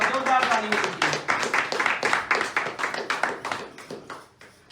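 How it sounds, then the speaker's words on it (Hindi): Audience clapping to welcome a guest at a weekly meeting in Noida Sector-93, a ragged burst of claps with a voice over the first moments, then thinning out to scattered claps near the end. "एक बार जोरदार ताली"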